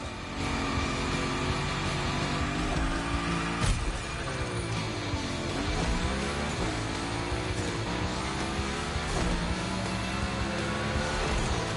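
A car in the racing game The Crew Motorfest drifts along a line of tire tracks, its engine roaring loud and steady throughout, with pitch swooping up and down as it slides.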